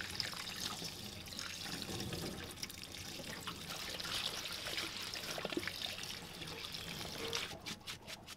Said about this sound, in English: So first step is to wash your lentils. So we're going to wash them and let them drain thoroughly.